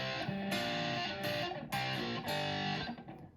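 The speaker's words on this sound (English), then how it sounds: "I've got on my distortion pedal, I've got the distortion turned up all the way, and very little tone and treble in my amp." Electric guitar played through a distortion pedal with distortion at maximum and the amp's tone and treble turned low, giving a muddy, thick sound. Several sustained distorted chords are struck in a short riff, up close and without talk.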